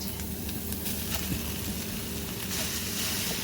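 Ground meat sizzles loudly in a hot pan with onions and garlic, a steady crackling hiss with scattered pops and the occasional scrape of stirring.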